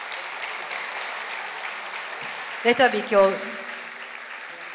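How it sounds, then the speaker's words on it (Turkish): Concert audience applauding steadily at a solo concert, a continuous wash of clapping throughout, with a person speaking briefly over it near the end. "önce bir alkış lütfen"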